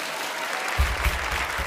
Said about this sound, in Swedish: Ge en stor applåd för Emil och Daniel Norberg.